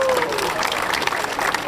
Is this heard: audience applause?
yes